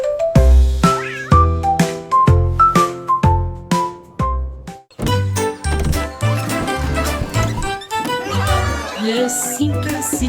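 A cat meows repeatedly over a bright tinkling children's tune, the meows blending with bouncy plucked notes in a steady rhythm, loud and upfront.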